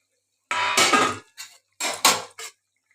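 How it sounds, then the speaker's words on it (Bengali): Bata fish tipped into a thin, boiling Bengali fish curry broth with potato and pointed gourd, giving two short, close bursts of splashing clatter about a second apart, with a smaller knock after each. "এবার মাছের ঝোলটাও ফুটে উঠেছে, মাছগুলো এবার আমি সব ঢেলে দিচ্ছি ঝোলের মধ্যে।"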